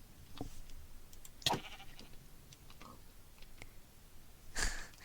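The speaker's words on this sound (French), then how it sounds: "Mais je vais juste tondre les moutons avant." Blocky sheep in a Minecraft survival game bleat a few times, short separate calls spread across a quiet stretch, the clearest near the start and another near the end, with no talk.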